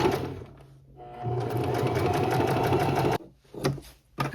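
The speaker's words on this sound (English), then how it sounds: "stitch length is set to 4, and then we're just doing a straight stitch" Sewing machine running a straight stitch at length 4 along the chunky side seam of jeans; a loud steady mechanical whir that speeds up, holds, then stops abruptly with a few short bursts afterward.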